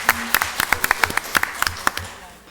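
Scattered hand claps from a small group at a school board meeting, a dozen or so sharp claps spread unevenly over a couple of seconds, with faint room murmur beneath.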